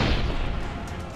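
Cannon artillery fire at the 1600 Battle of Miraslau, a single deep, thundering boom rolling and echoing down from the hills, loud and broad before slowly fading.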